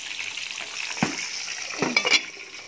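Pork belly fries skin side down in a lidded pan over moderate heat, giving a soft, steady sizzle with a few sharper crackles and light clinks near the end.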